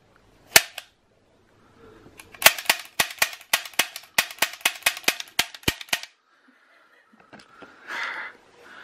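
A gun fires rounds at a target: one sharp, close shot, then after a pause a rapid, evenly spaced burst of about a dozen loud cracks. A brief faint sound follows once the firing stops.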